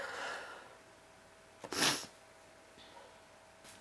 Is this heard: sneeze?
yes